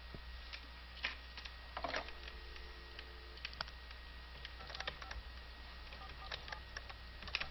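A telephone is dialed in the video game Tender Loving Care, with a series of faint, irregular key tones and clicks over a quiet, steady background hum.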